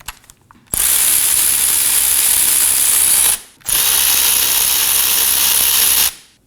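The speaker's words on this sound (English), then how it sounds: "using a 14mm socket, we're going to go ahead and remove both of these bolts" Socket wrench with a 14mm socket loosening and removing brake caliper bolts on a 2016-2020 Kia Sorento, heard as two long, loud bursts of rapid ratcheting clicks separated by a short pause, with no talking.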